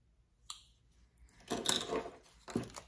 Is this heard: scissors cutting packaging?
yes